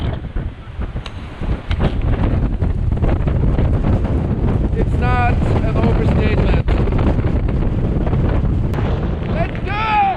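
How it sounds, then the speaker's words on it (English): Strong wind on a snowy mountain in a blizzard roars and buffets the microphone in a constant heavy rush, and a person speaks briefly over it. "It is quite windy up here."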